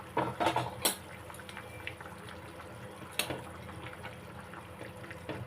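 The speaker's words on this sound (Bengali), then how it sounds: "দেখো ঝোল ফুটে গেছে। এবারে আমি এর মধ্যে মাছ দিয়ে দেবো।" Tilapia fish curry with ridge gourd and potato simmering in a pot on a gas stove, a low steady bubbling broken by a few sharp clinks of a utensil against the pot.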